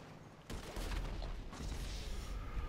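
Explosions and gunfire in a snipers-versus-BMX video game, a dense rumbling barrage of booms and crackling shots that swells suddenly and continues loudly throughout.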